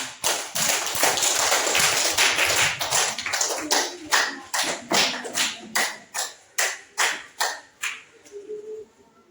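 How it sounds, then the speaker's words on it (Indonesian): A class group claps, dense and steady at first, then thinning into slower, scattered individual claps before stopping. "Oke, tepuk tangan."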